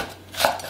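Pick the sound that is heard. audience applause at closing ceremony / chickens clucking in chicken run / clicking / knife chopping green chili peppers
knife chopping green chili peppers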